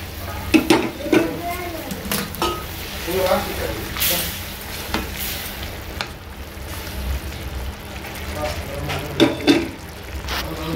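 Cooker-boiled red radish goes into a hot pan and is stirred, bringing bursts of sizzling and scraping with occasional spoon clinks against the pan, while a person talks over the cooking.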